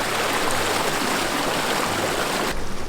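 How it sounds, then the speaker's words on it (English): Warm spring water rushes down the white travertine terraces of Pamukkale, Turkey, a loud, close, continuous broadband gush and splash that eases slightly near the end. "The water flowing down from right here."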